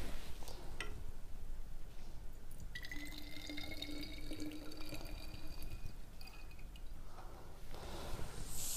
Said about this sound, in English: So we'll pour the distillate into the separating funnel.